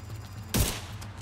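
A single loud burst of gunfire from the shooter video game The Division 2 lands sharply mid-clip, standing out against a low steady game background hum.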